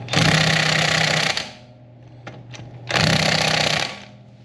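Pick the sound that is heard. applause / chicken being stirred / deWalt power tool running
deWalt power tool running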